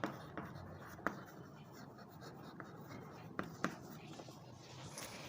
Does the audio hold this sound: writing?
yes